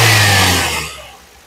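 A 2011 Maruti Suzuki Swift VXI petrol engine revs up loudly close by, then the pitch and level fall away smoothly as the throttle is released, with no talking.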